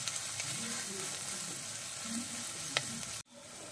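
One medium onion, finely chopped, sizzling in hot oil in a pan, a steady close crackling hiss with light stirring scrapes that cuts off abruptly near the end.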